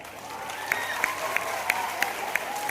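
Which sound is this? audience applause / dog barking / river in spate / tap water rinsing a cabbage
audience applause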